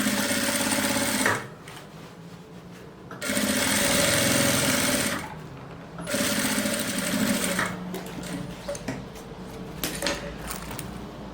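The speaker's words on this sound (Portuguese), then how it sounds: "Passar uma costura aqui, ó, pra prender o tecido do forro aqui na parte de fora." A sewing machine stitches the lining fabric of a small zippered pouch in three or four steady bursts, each a few seconds long, with short quiet pauses between runs. No one speaks.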